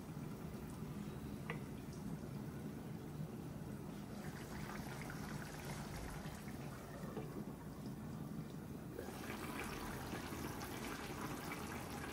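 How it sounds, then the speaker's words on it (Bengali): Liquid trickles steadily into a simmering curry, a soft continuous pouring and bubbling wash that grows slightly brighter toward the end, with no voices. "আর এখন আমি তরকারির মাঝে ঝোল দিলাই"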